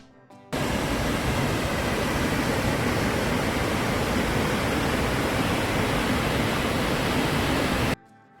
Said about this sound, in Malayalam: അങ്ങനെ ഒരു ചെറിയ വെള്ളച്ചാട്ടം